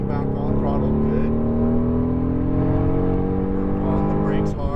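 A Mercedes-AMG GT R accelerates on a race track, its engine note a strong, steadily rising drone as it pulls hard, heard from inside the car with a voice talking over it.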